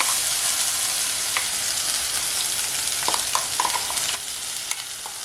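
Ground coconut paste hits hot coconut oil with popped mustard seeds, giving a steady close sizzle with a few scraping stirs toward the end, no voices.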